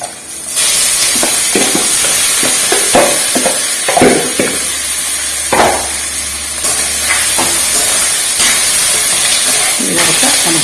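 Mushrooms with ground masala paste sizzle and hiss steadily in a hot pan, a continuous loud frying noise with a voice talking over it throughout.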